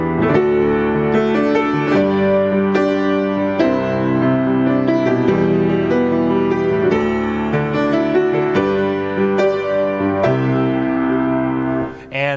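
Solo piano plays the bridge melody line of the worship song No Longer Slaves over full sustained chords, a steady, continuous passage at close range with no talking.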